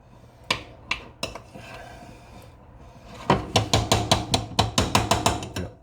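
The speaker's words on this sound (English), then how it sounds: "So we just want to stir that up." A spoon stirring melted chocolate in a bowl gives sharp clicking taps, a few scattered strikes at first, then a quick, steady run of clinks close up.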